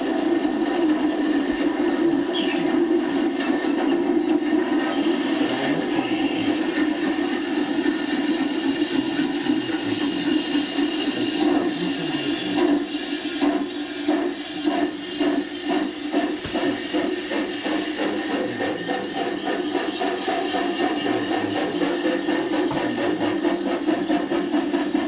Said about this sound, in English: The gracefully designed N2 works up the gradient.